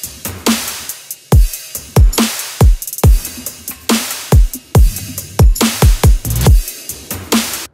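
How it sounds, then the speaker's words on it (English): A future bass drum pattern loops with punchy kicks, pitched toms sweeping down, crashes, ticking hi-hats and extra percussion layered behind, in a dense, loud, driving rhythm with no voices. "And altogether, your drums will sound like this."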